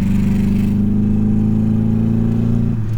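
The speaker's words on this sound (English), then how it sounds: "It sounds like a car. Like a certain old classic," A 1990s-era classic car's misfiring engine drones steadily and loudly from inside the cabin, a rough low hum under strain during a drive over the Alps, then drops off abruptly near the end.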